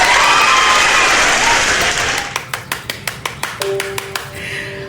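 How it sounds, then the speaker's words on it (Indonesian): Studio audience applause at a comedy talk show, loud crowd clapping that fades out, followed by about a dozen sharp, evenly spaced single claps close by, with a short tone near the end. "Tepuk tangan semuanya."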